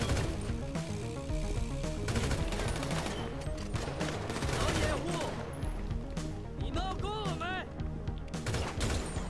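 Gunfire during a nightclub mission in GTA 5 Online, repeated close shots and rattling bursts mixed with game effects, a voice talking over the action.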